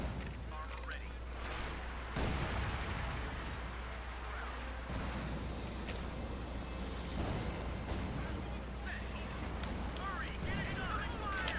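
Mortar fire in the Company of Heroes 2 video game, with several muffled distant thumps and blasts spread through a steady battlefield rumble, partly under a talking voice.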